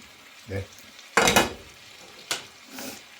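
Onion, green chilli and coconut dropped into a hot pan for pork fry, giving short bursts of sizzling and frying with a couple of louder splashes of crackle between quieter stretches.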